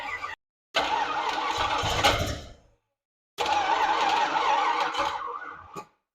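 An AMC Hornet's 360 engine cranks sluggishly on a weak battery, with the open choke, in two long grinding bursts separated by a pause, loud and close, with no catch or start.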